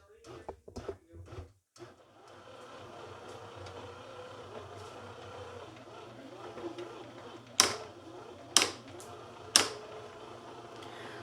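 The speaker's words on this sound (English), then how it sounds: "So that sound you just heard was the nuts dropping out of the little nut holder" A Starfrit 024707 electric bread maker's fruit and nut dispenser drops nuts into the dough with three sharp clacks over a steady low mechanical hum, after a few earlier knocks and thumps.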